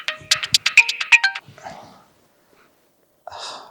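A mobile phone ringtone plays a quick run of bright, rhythmic electronic tones up close, then a breathy sound follows, a pause of silence, and a short burst of noise at the end.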